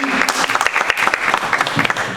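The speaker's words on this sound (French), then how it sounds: "Est-ce qu'on donne une main d'applaudissement?" A church congregation breaks into brief, lively applause, a dense burst of many hands clapping at close range.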